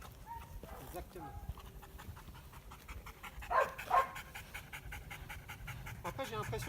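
A dog that may have poor sight pants steadily and rhythmically in its box, close by, with a brief louder burst of breaths midway and faint voices in the background.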